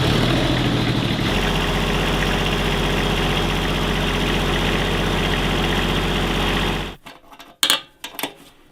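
A generator at a snowy Alaskan homestead runs with a loud, steady low engine drone for about seven seconds, then cuts out, leaving a few scattered clanks and knocks.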